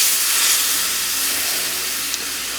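White wine hitting a hot pan of pork chops with grapes, a steady broad hiss and steam that holds throughout, with a small sharp spike near the end.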